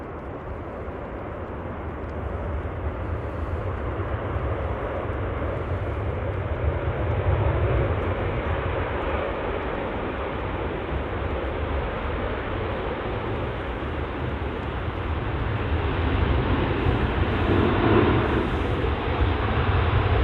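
Fixed-wing airliner arriving at Manchester Airport, a steady broad engine roar heard from a distance, swelling gradually and holding throughout with no voices.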